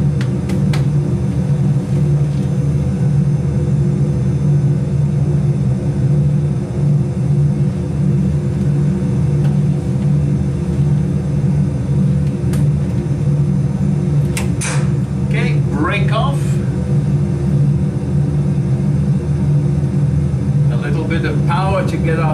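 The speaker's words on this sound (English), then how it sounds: "now we'll taxi to the end of the runway." Steady loud rumble of a light aircraft engine taxiing toward the runway, a constant drone filling the cabin with occasional clicks and a voice talking over it.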